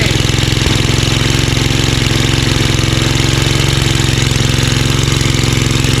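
A Tecumseh 5HP engine on a Simplicity 24-inch two-stage snowblower runs off choke, loud and close, with a fast, even chugging pulse that holds steady throughout.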